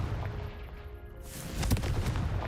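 A Confringo fire spell explodes in the wizarding game Hogwarts Legacy: a quieter whooshing build gives way to a loud, rumbling blast with crackling bursts in its final second.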